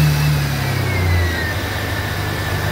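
A Jeep Cherokee XJ engine running steadily after starting, a close, continuous low idle hum with a faint rising whine, no voices.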